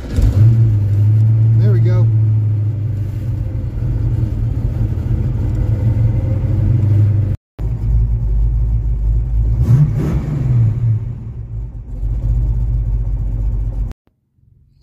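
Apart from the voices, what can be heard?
Ford Mustang engine with cam starting and revving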